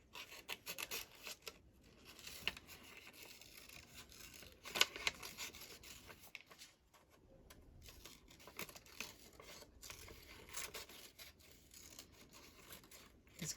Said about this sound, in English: Just quickly cut around it.